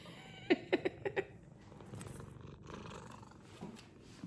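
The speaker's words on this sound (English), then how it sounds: "At least she's purring." A cat purrs softly through the room, its low rumble faint and steady beneath a few brief, sharper chirps or clicks near the start.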